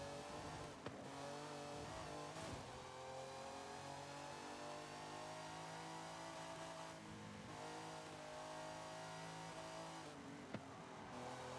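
A rear-wheel-drive car drifting in a racing video game, its engine revving steadily at high pitch with rising and falling tones and brief gear-change dips, loud and continuous throughout, no talking.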